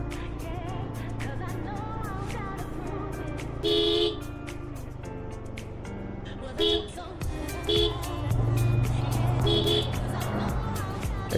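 Evening drive by car through Darjeeling, the steady engine drone from inside the vehicle broken by several short horn toots from nearby traffic, spaced irregularly over the ride, with no talking.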